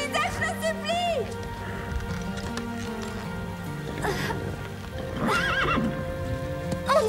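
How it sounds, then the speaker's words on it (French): A horse gallops with rhythmic hoofbeats, interrupted by high, wavering neighs, amid a busy mix of other sounds and voices. "Tu dois galoper"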